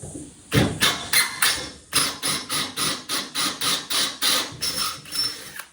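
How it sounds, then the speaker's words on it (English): A drill bores through stainless steel while fitting a jetter unit onto a ute, giving a run of about a dozen evenly spaced, loud grinding bursts with brief pauses between them, close by and with no one talking. "Stainless is always fun to drill through."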